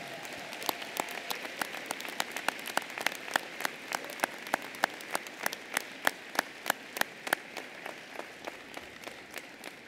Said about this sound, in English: let's give a big round of applause in appreciation of your family and friends